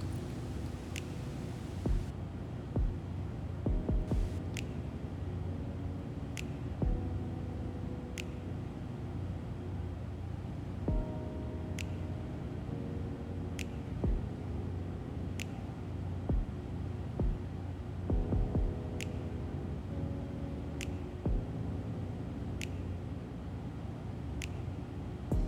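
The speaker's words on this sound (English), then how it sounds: "I just got this sewing machine. It's actually a brother serger" A Brother serger sewing machine runs close by, a steady mechanical hum with a periodic ticking rhythm that stops and restarts several times over the stretch.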